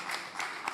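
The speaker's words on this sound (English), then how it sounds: "Round of applause for Jamal." Brief audience applause at a business debate event, soft and somewhat distant clapping from a crowd with a few sharper claps standing out.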